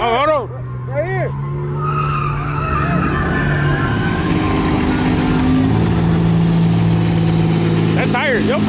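A turbocharged truck engine idles and revs at a Sunday night car meet near Echo Lake, loud and nearby, with tire squeal, a turbo whistle and voices talking over it.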